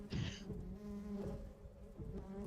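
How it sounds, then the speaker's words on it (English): Bees buzz in a building during a game, a dense insect drone that rises in intensity with a sharper burst at the start, fairly close and steady with no talking. "the sound of bees gets louder"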